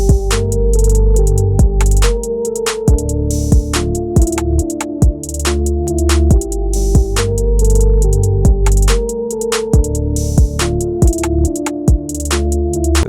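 Hip-hop beat built from old MPC drum sounds with bass and reverb; loud, steady sharp hits in a repeating pattern over sustained low bass and tonal layers, with no voices.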